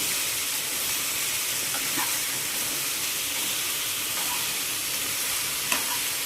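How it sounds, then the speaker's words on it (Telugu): Ridge gourd sizzles steadily in a pan over a low flame, a constant even hiss with a few faint clicks and no voices. "స్టవ్ని సిమ్లో పెట్టుకొని చిన్న మంట మీద వేగనీయాలి"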